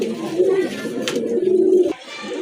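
A large pigeon coos nearby in a low, throaty warble, loud and close, with a brief rustle in the middle.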